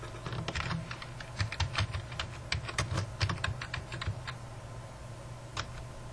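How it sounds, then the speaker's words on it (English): Fingers tap quickly on a computer keyboard while a name is typed into a spreadsheet, close and crisp, in short irregular bursts with brief pauses and no talking. "I'm going to type my name."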